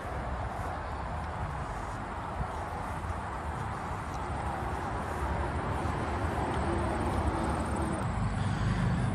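Steady roar of traffic on a major highway close by, a dense broadband wash of passing cars and trucks that holds even and continuous with no voices over it.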